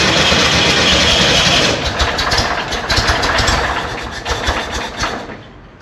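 A 1959 Volkswagen Beetle's air-cooled engine runs loud and close with a raspy, rough roar that gradually eases into a lumpy idle, with no talking over it.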